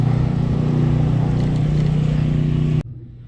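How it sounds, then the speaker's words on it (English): A motorbike engine drones steadily and loud at close range during a ride home, a constant throbbing hum that cuts off abruptly near the end. "Let's get on the bike"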